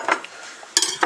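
Greased, lined bread pans for Estonian rye bread clatter and clink as they are handled in a home kitchen, a few short metallic knocks close by with a quiet pause between them.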